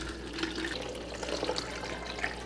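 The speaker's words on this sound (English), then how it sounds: "So I'm filling those specific jars up with water" Tap water runs steadily into glass jars in a kitchen, a continuous splashing, gurgling stream at moderate volume with a few brighter clinks of water against glass, and no one talking.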